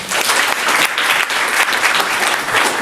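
Sustained applause from an audience at a Trinity College reading welcoming author Sloane Crosley, steady and dense clapping filling the room for about three seconds with no speech.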